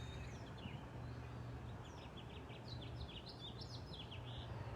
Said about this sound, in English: the birds are supporting me